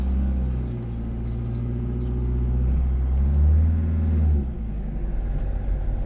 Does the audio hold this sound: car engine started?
yes